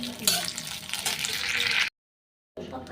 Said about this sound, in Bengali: কাজু কিশমিশটা আগে আমি সুন্দর করে ভেজে তুলে নেব।